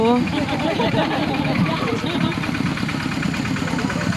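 A farm tractor engine rumbles steadily and loud nearby in a school sports-day parade, a continuous idling drone that runs under people talking throughout.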